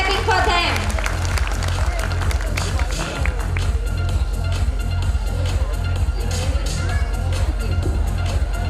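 Applause for young girls at a school annual function: a crowd claps steadily through the whole stretch over loud, pulsing background music, with some audience chatter mixed in.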